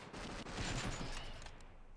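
Dense, sustained gunfire rattles from a RimWorld battle in the Save Our Ship scenario, with overlapping shots forming a continuous crackling barrage that eases off toward the end and has no voices over it.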